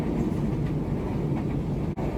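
A KRL Jogja–Solo commuter train pulling away from Delanggu station, a steady loud rumble of wheels and carriage noise heard from inside, with a brief dip near the end.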